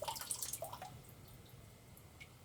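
Water from a tap dripping, the drips coming quickly at first, then thinning out and slowing to a stop, faint and close in a quiet room.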